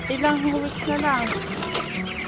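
Farm chickens cluck in a steady, close run of short calls, with people talking over them at times.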